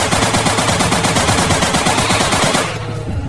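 Rapid automatic gunfire in a shooter video game, a dense, loud, evenly spaced burst of shots that stops abruptly near the end, leaving quieter background ambience.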